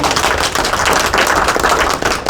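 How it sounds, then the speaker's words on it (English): An audience at a Swink Board of Trustees public meeting gives a round of applause: dense, steady clapping that fills the room at close range for the whole stretch, with no talking over it. "We would like to give her a round of applause, please."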